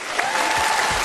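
A studio audience at a televised talent show breaks into applause after a volleyed goal. A steady, dense wash of clapping fills the whole moment, loud and close, with no voices over it.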